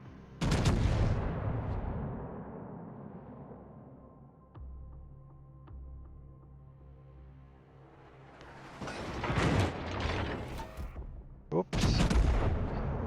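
Naval gunfire in a World of Warships–style battle game, with the battleship Amagi firing shells from behind an island: heavy booming salvos at the start and end, a low rumbling lull between, loud and without speech.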